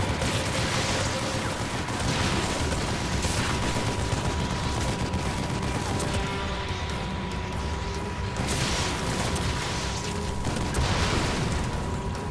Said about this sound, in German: Ich muss an das Maschinengewehr.